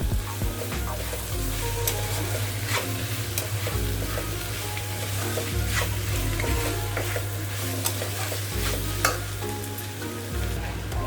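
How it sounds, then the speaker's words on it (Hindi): Capsicum, onion and tomato sautéing in hot oil for a paneer gravy, a steady close sizzle with repeated spatula stirring and scraping against the pan throughout. "अभी हम ये शिमला मिर्च डाल देते हैं और ये ऑनियन डाल देते हैं और साथ में टमाटो भी डाल देते हैं। ये डाल के और अच्छे से हमें भूनना है।"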